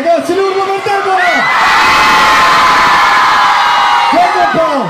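A large crowd at an outdoor event in Modica roars, cheers and whoops for a singer, the shouting swelling into a loud sustained wall of noise, with a voice over a PA speaking at the start and end.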